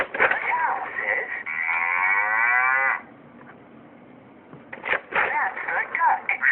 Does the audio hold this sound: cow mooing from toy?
yes